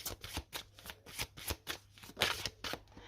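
Oracle and tarot cards being shuffled and handled, a steady series of quick crisp paper flicks and riffles, close and soft, with no talking.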